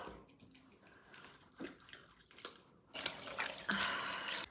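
Tap water running into a sink during face washing, quiet drips and faint splashes at first, then a steady louder stream of running water gushing near the basin.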